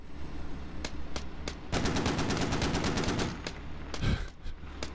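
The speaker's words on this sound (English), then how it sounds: "Wildman is shooting back at King" Gunfire in the video game Squad: scattered single shots, then a dense burst of rapid automatic fire, followed by a few more isolated shots and a louder blast, all fairly close and with no talking.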